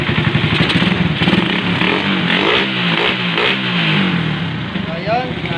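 A carbureted Suzuki Raider R150 motorcycle engine runs steadily up close with a loud, rough mechanical clatter, the tone holding fairly even throughout the stretch.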